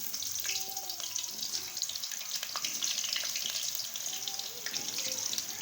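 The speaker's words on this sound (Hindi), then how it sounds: "ये देखिए अब आलू को ऐड कर रहे हैं इसमें।" Potatoes hiss and sizzle steadily in hot oil in a karahi, a continuous bubbling fry at moderate loudness, while someone talks.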